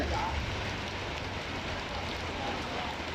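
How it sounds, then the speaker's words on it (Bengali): Rain falls on a Singapore city street near a hotel, a soft, steady patter on surfaces, faint and even throughout with a low background hum. "ইতিমধ্যে আল্লাহর রহমত সুন্দর বৃষ্টি হচ্ছে।"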